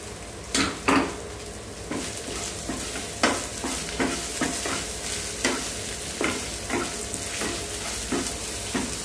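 Vegetables sautéing in oil for idli masala, a steady loud sizzle with repeated spoon-on-pan scrapes and clanks, especially early on, and no voices.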